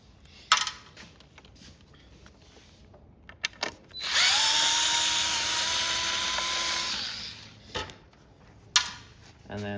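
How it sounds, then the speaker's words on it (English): A small power driver unscrews star-head screws from a Lowrance Ghost bezel, giving a sustained whirring run of a few seconds between isolated clicks and handling knocks, close by and without talking. "There's two screws under it, and all these are star heads. So you'll take these two screws loose."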